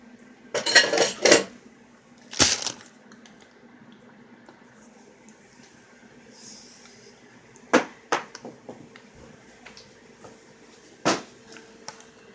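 A clean plate and frozen pizza rolls are handled in a kitchen, with several sharp ceramic clinks and knocks scattered between quiet pauses.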